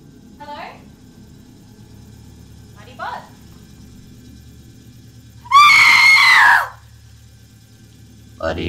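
Shrill screams ring out in a BuddyBot toy advert, a few short yelps over a low engine-like hum, then one long, loud piercing scream near the end.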